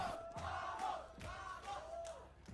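A hometown crowd roars and yells in loud sustained waves at a Valorant LCQ esports match between KRU and FURIA on the map Ascent, with surging chants over the arena din.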